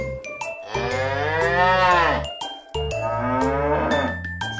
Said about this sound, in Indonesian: sapi, sapi,